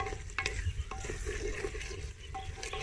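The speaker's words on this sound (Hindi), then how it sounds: "इसको मिक्स करते हैं, थोड़ा सा भून लेते हैं" Coriander powder masala is stirred and roasted in a pan, giving a steady low sizzle with soft scraping strokes and occasional spoon clicks throughout, close and continuous with no talk.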